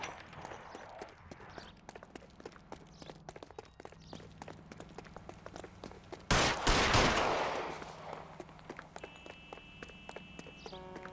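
Scattered gunshots ring out during an L.A. Noire shootout, sharp cracks spread across the scene with a louder burst and a heavy blast midway, set over a faint background bed.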